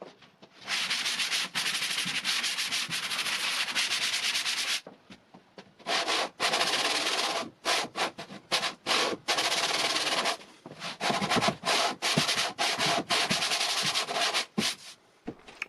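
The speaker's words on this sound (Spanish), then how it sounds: "Ambas puertas pueden lijarse como antes." Abrasive sanding on a painted MDF door panel, long continuous passes broken by short bursts and pauses, loud and close, no talking.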